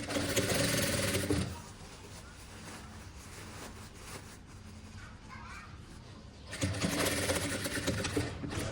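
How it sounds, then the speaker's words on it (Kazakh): A sewing machine stitches a seam on a vest in two loud, steady rapid-fire bursts, one at the start and one near the end, separated by a quieter pause of handling noise. "Енді осы тігілмей қалған жерлерін тігіп аламыз."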